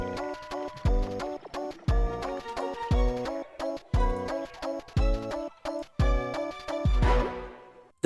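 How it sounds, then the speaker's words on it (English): Synth-led waltz section of a Terraria-style boss theme, with a steady three-beat pulse of punchy accented chords in regular bursts, loud and close, ending in a swelling flourish. "there's going to be this waltz, and it generally sounds like this."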